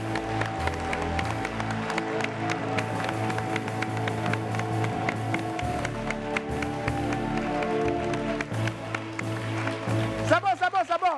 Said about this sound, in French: pour eux, on va applaudir pendant au moins 30 secondes